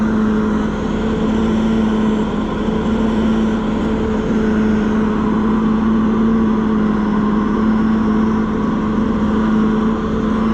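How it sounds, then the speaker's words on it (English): Hydraulic blower fan on a White 5100 planter spinning up to speed, a loud steady whine with a strong sustained hum over continuous engine drone, unbroken for the whole stretch. "There we go, we got blower."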